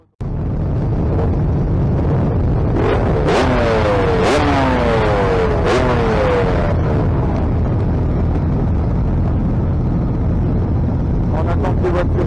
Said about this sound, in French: Allez, c'est parti pour la session moto.